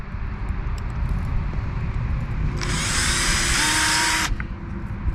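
A power drill bores a few small holes into an irrigation pipe elbow for a garden watering system: one loud, steady whine of about a second and a half, close by, over a low background rumble.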